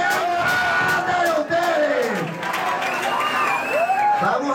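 A pageant crowd cheers and shouts loudly and continuously, with whoops and voices rising and falling over steady noise from the room.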